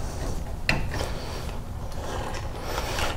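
A Ryobi door hinge kit gauge snaps into position with a few sharp plastic clicks and rubbing, close and brief.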